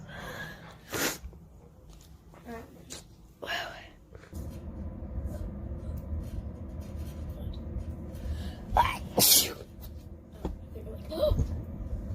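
A girl gives a few abrupt, breathy sneezes, close by and separated by quieter stretches of rustling and handling noise.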